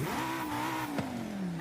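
The KTM X-Bow GT4 race car in Forza Horizon 5 revs its engine, a loud steady tone that rises slightly then sags, with a quick shift-like blip midway and no talk.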